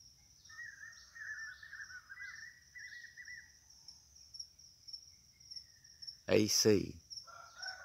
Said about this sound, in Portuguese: Ouvindo só canto de pássaro